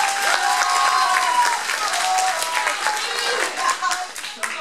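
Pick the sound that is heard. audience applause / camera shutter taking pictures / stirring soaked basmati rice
audience applause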